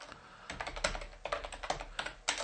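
Quick clattering keystrokes on a computer keyboard, typed in short uneven bursts, close and clear with no voice over them.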